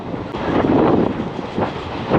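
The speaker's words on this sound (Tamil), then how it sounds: "எக்ஸ்பிரஸ் ஒரு வழியாக வந்துருச்சுங்க." Express train arriving at a station near Cochin airport, heard as loud, close rumbling with rhythmic clickety-clack of wheels over rail joints, steady throughout.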